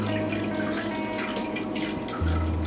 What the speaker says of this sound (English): So I just slowly pour this through the fine mesh strainer.